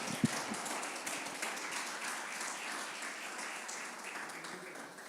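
A church congregation applauds during a sermon, a steady wash of many hands clapping at moderate distance, with one sharp clap near the start and the noise fading slightly toward the end.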